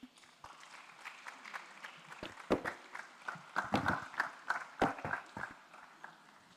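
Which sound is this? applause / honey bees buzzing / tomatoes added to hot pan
applause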